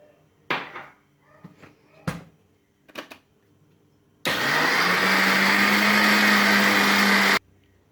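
Cupcake batter of sugar, eggs and flour being beaten with an electric mixer, a few knocks and clatters first, then a loud steady whirring motor run for about three seconds before it cuts off.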